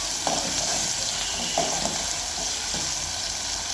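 Tempering sizzling and frying in a pan for uggani, a steady dense hiss of hot oil with a few soft stirring scrapes, close and continuous with no talk.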